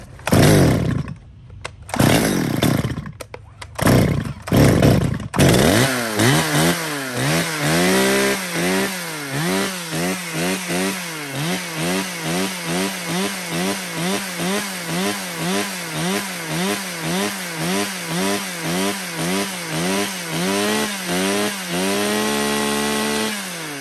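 A chainsaw engine starts after a few pulls, then idles and revs in steady repeated pulses, loud and close, with no one speaking.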